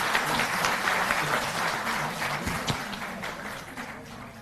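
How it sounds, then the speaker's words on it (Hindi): Audience at a state handicraft awards ceremony gives a round of steady applause, moderately loud and dense, gradually thinning and softening toward the end. "बहुत जोरदार तालियां।"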